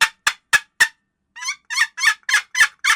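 A turkey hen call, likely made with a caller: four sharp evenly spaced yelps, a short pause, then six raspier, squeakier notes in a steady rhythm, loud and close with no talking.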